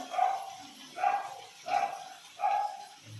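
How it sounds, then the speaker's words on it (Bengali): A dog barks four times at an even pace, each bark moderately loud and a little distant, with quiet pauses in between. "এখানে একটা কুকুর আছে খুব চেঁচামেচি করে"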